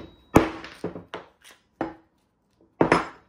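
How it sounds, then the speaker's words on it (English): A rubber hammer taps a small sanding disc for woodworking, giving five or six dull, separate thunks at an uneven pace, fairly close and loud in an otherwise quiet room. "Probably try a rubber hammer."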